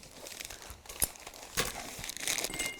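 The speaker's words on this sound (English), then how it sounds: "I'm going to have to unwrap it now." Gift wrapping paper being crinkled and torn open up close, with brisk rustling bursts and a sharper rip partway through, no one speaking.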